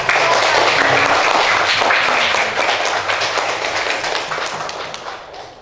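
Children in an Indonesian classroom clap together during a lesson, a dense and steady burst of applause that is close and loud, then gradually thins and fades toward the end.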